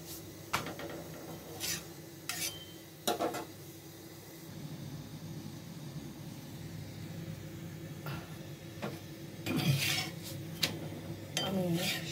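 Rotis being warmed in a pan in a home kitchen, with sporadic clinks and scrapes of utensils against the pan over a faint steady hiss, with occasional rustling.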